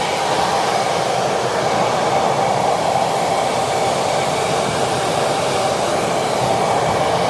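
Loud, steady roar of aircraft noise at an airport, a dense broadband rush that holds unbroken from start to finish with no voices over it.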